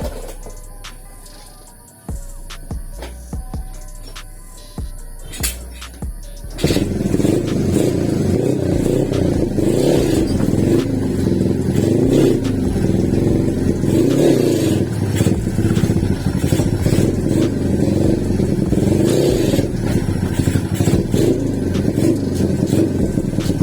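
A 147cc XRM 125 underbone dirtbike engine, set up for trail and farm use, is handled with clunks before catching at about six seconds, then runs steadily at a loud, close idle with slight revving for the rest.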